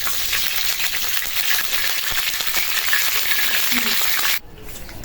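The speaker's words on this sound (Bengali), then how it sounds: "কড়াইটা গরম হয়ে গেছে তেল দিলাম" Oil sizzling in a hot wok before cooking jute leaves with lentils, a loud, dense, continuous frying hiss up close that cuts off sharply near the end.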